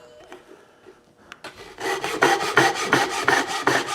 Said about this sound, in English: These Japanese saws are amazing. They cut on the pull stroke very quickly.